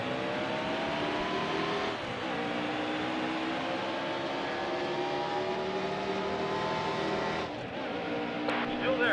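Race cars accelerate at the green flag in the video game NASCAR Heat Evolution at Michigan, a dense loud field of engines droning and rising in pitch together, with brief dips as they shift.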